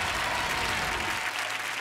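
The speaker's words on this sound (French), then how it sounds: "on l'applaudit quand même" Studio audience on a French TV singing game show applauds contestant Margaux, a brief, loud, unbroken wash of clapping from a large crowd.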